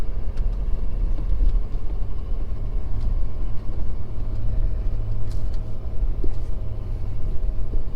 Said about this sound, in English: So it's in 4-wheel drive right now. I do not have the diff locked. And here we're getting into the hill now.